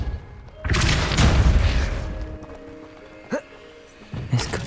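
A Depulso spell blast in the video game Hogwarts Legacy booms loud and near as a single heavy burst, then fades, followed by a couple of smaller pops and thuds.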